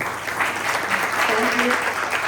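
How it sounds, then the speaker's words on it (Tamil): Audience applause welcomes performers onto the stage at a residents' community social drama, a dense, steady clapping that holds at an even level throughout, with faint voices mixed in. "ஒரு பலத்த கைத்தட்டலுடன் வரவேற்போம்"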